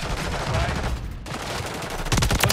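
Rapid gunfire in Call of Duty, heard during a camo grind. Dense bursts of shots run continuously and loudly, with a sharper cluster near the end.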